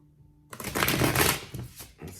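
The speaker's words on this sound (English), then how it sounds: "do 3 or 4 shuffles" A quick riffle of tarot cards being shuffled, a brief crisp flutter up close after a moment of near silence.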